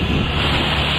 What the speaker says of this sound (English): the winds have kicked up